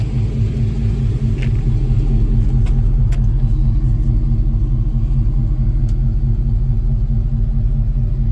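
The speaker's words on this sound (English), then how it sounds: "I'm gonna play 38 hertz" Deep, steady 38 Hz bass test tone pushed hard through a subwoofer, a loud continuous low drone with no gaps for the whole stretch.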